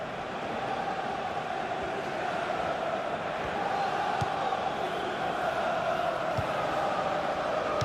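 Stadium crowd noise from the football video game FIFA 16, in a League Cup match between Newcastle and Tottenham: a steady, dense roar of the crowd with no breaks, holding at the same level throughout.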